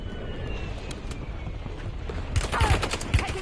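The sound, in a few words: gunfire in Call of Duty Resurgence video game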